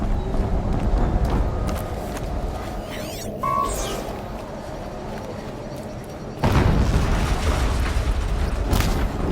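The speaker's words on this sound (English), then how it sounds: "Another explosion." Explosions in the video game Horizon Zero Dawn, a loud rumbling boom that swells midway and a second heavier blast near the end, over continuous game ambience and mechanical noise.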